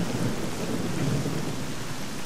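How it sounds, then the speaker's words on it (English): Steady rain pours down in the S.T.A.L.K.E.R. game world, with low rolling thunder rumbling underneath, forming a dense, even wash of sound with no talk. "And of course it's raining!"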